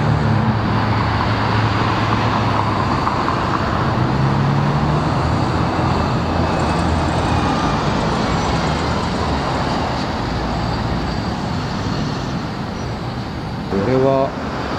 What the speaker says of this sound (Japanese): 日本車の次に韓国車、ヒュンダイ、キアが走ってますね